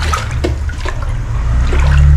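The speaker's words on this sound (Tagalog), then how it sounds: "Pero grabe yung tubig." Floodwater flowing inside a flooded house, a steady loud rush and trickle of water filling the room, continuous and close with no talking.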